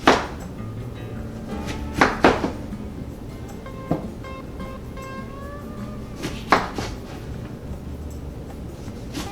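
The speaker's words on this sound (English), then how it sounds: "Just cut your lime right down into little slices." A knife slices a lime into little slices on a cutting board: a handful of sharp, separate chops at uneven intervals, close by, over a low steady background hum.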